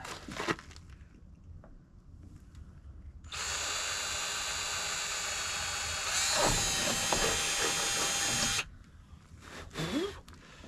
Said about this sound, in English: Maybe we'll just pre-drill one to start and see.